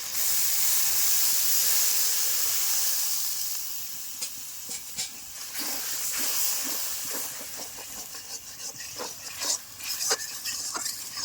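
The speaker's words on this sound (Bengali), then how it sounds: "মশলা কষার জন্য দিচ্ছি সামান্য একটু জল।" Water poured onto spices frying in oil in a pan for an aubergine dish sets off a loud steamy hiss that fades into lighter crackling and popping sizzles.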